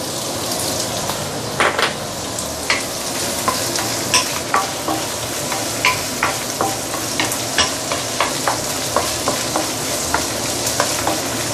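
Chopped garlic sautéing in a wok for chow mein with river prawns, a steady close sizzle and crackle broken by regular sharp clacks of a spatula stirring against the metal, with no voices.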